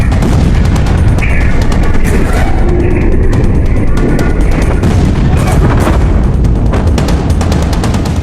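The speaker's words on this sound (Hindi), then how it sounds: "धमाका कितने कैमरों में कैप्चर हुआ पहले वो देखिए" Huge explosion in Beirut, heard as a loud, dense roaring rumble with repeated heavy booming bursts filling the whole stretch, with no voices.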